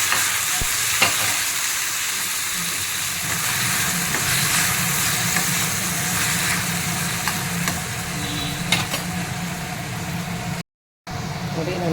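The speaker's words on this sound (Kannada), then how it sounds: "ಚೆನ್ನಾಗಿ ಬಾಡಿಸ್ಕೊಳ್ತೀನಿ." Chopped tomato and green chillies sautéing in a pan for shahi paneer, giving a steady broadband sizzle throughout with occasional scrapes and clatters of stirring, close and fairly loud, with a brief silent gap near the end.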